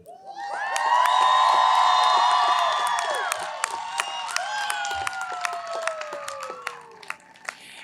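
A graduation crowd erupts in loud cheering, whoops and whistles, then settles into steady applause with scattered sharp claps over several seconds.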